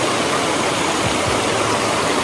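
A clear rocky stream flowing at Minahan, General Nakar, Quezon: a steady, loud broadband rush of moving water, close and constant throughout, with no talking.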